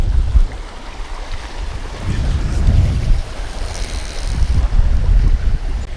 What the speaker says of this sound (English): Got wind today, blowing about 20-25, kind of in a from the left to right here in front of me.